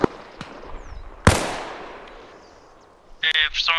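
A frag grenade in the ARMA Reforger military game goes off as one sharp, loud blast that decays into a long rumbling tail, with a softer pop before it and brief radio-style chatter afterward.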